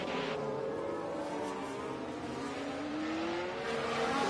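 Formula 1 race cars at the Hungaroring in the video game F1 Manager 24, engines producing a continuous high-pitched whine that slowly rises in pitch, steady and fairly loud with no talking.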